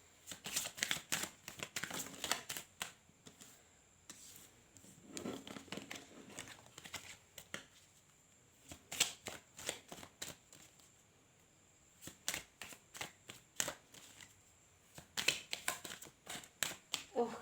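Crisp riffling and snapping of tarot cards being shuffled in bursts, close and distinct, with quiet pauses between rounds of shuffling.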